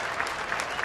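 A baseball stadium crowd at Pittsburgh cheers and applauds in a dense, steady wash after a deep fly ball to center field; the roar is continuous and moderately loud, with no distinct voices above it.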